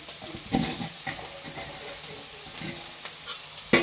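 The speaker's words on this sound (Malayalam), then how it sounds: "നമുക്കിതൊന്ന് ഇളക്കി കൊടുക്കാം." Grated coconut being stirred into a frying mixture of plantain and fried prawns in a pan for thoran, with scraping spoon strokes and intermittent clinks over a low sizzle, close and moderately loud.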